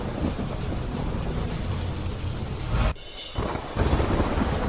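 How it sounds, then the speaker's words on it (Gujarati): A heavy monsoon downpour in Keshod, Junagadh pounds down as a loud, dense roar with deep thunder rumbling underneath, briefly dipping near the middle before surging back. "જૂનાગઢમાં કેશોદમાં પડ્યો ધોધમાર વરસાદ"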